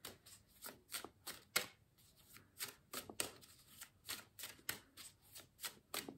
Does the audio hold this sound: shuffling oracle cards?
yes